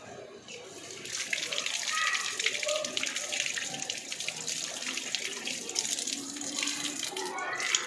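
Tap water runs steadily while someone washes face and feet, a close, constant splashing gush with hands moving through the stream, and someone talking at times over it.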